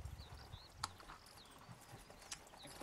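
Donkey hooves clip-clop in a loose, uneven rhythm, with a sharper knock near the start and another later, fairly close over a faint background.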